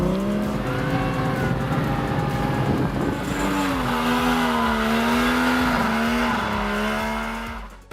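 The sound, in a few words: Tomcar TX two-seater all-terrain vehicle driving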